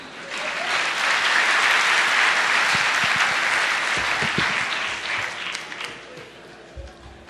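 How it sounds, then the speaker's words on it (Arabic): Loud crowd applause from an audience at a gathering, building quickly and holding steady before thinning out, with a few scattered claps and low thumps near the end. "صفقوا للشيخ احمد عشان يتحمس"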